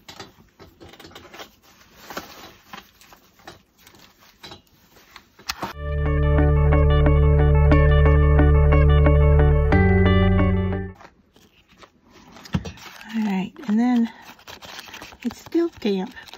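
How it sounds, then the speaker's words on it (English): A heat tool drying a recycled-materials craft tag, a steady loud whirring hum with a fan-like rush that runs for about five seconds, then cuts off, with a person talking before and after. "I'm going to bring a heat tool in and dry this"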